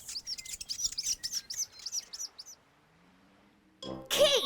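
A kea parrot at a bird feeder gives a rapid series of high, chirping calls, then falls quiet. A louder, harsher squawk bursts in at the end.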